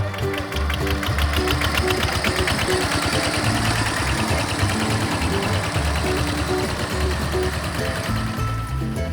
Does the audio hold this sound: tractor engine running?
yes